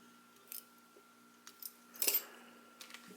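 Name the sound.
scissors clipping thread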